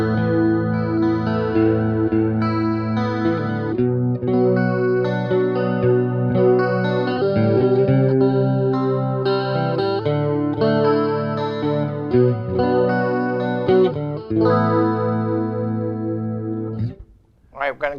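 Electric guitar played through a multi-effects unit on a chorus-and-distortion preset, sustained shimmering chords and notes ringing continuously for most of the passage, loud and close, then cutting off abruptly near the end.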